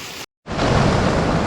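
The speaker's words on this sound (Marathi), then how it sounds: "खूप जोरदार पाऊस चालू आहे" Heavy rain pounds a plastic-covered tent at a streamside campsite, a loud broadband roar that cuts out for a brief instant and then returns at full strength.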